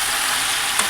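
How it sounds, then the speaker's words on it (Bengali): Curry fries with salt in a pan, a dense steady sizzle throughout, with a faint stir near the end. "এই দেখো বন্ধুরা এটা এখন কষানো হচ্ছে লবণ দিয়ে"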